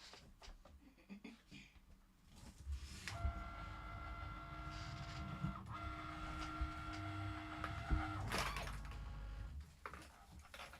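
A Cricut cutting machine works through a mat one color at a time, a steady mechanical whir with a sustained motor hum, faint clicks and shifts as the carriage moves, fairly quiet and close, with no talking.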